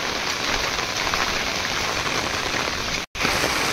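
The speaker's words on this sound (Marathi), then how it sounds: "खूप जोरदार पाऊस पडतोय" Heavy rain pours down steadily in a loud, unbroken roar of drops hitting the ground, with no voices.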